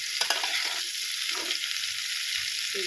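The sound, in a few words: cauliflower curry frying in oil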